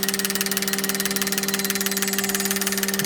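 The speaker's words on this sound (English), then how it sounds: "Let's go ahead and start it with the idling test." A car engine idles on a test rig during a fuel injector flow test, a steady rhythmic pulsing hum with a constant low tone, close and even for the whole stretch.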